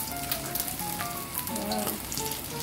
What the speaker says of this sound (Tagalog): Cover ulit and then hayaan ulit natin mag-fry dyan.